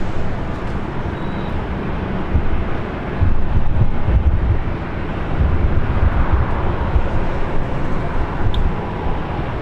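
Boeing 747 airliner, the Queen of the Skies, taking off from runway 24 Left at Los Angeles International Airport: a broad, rumbling jet roar that swells and holds at a distance, mixed with wind buffeting and no talk.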